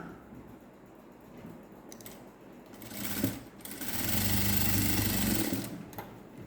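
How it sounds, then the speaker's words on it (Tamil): A sewing machine stitches darts at the waist of a net-neck blouse, first with brief clicks and handling noises and then with one loud, rapid mechanical whir lasting about two seconds before it stops. "இப்போது நம்ம இந்த இடுப்புக்கிட்ட பிடிக்கிற டாட்டு ரெண்டு இடத்துலையும் பிடிச்சிடலாம்"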